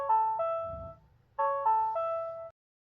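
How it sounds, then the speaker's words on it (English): Yale YRD420 smart lock sounding its confirmation chime after a PIN is deleted: two short bursts of clear stepped electronic tones separated by a brief pause, near and alone over a faint low hum. "the lock will play a sound to confirm that the PIN was deleted."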